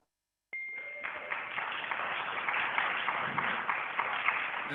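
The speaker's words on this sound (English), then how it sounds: "Not sure why that gets applause." Applause at a township board meeting, heard as a faint, steady wash of clapping that starts abruptly after a short silence and continues evenly, thin and tinny as if over a remote call line.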